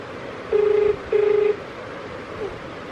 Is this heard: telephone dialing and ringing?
yes